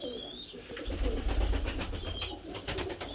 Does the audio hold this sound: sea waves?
no